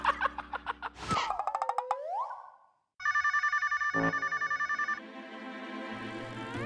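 A phone rings in a room with rapid electronic warbling ring bursts, a bright repeated ringtone pulse, then another melodic ringtone pattern, loud and close with no talk.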